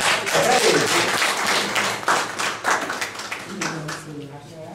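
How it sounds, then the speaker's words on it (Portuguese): A church congregation claps during a worship service, a dense round of applause that runs under a voice and fades toward the end. "Dá uma salva de palmas para os irmãos"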